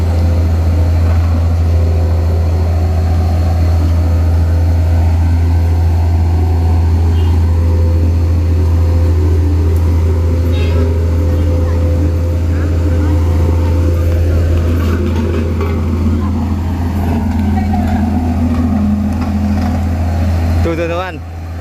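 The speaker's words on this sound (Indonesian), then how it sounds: "Itu motor grader." A motor grader works on a road repair with a beko nearby, giving a steady, heavy low engine drone that runs unbroken throughout, with faint voices underneath.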